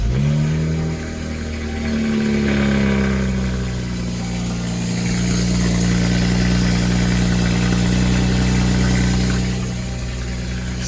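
A BMW E92 335i engine idles steadily and close by, its low even drone holding for about eleven seconds after a brief rise in revs at the start.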